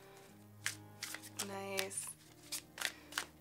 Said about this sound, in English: Let's give it the first shuffle, guys, right on camera here.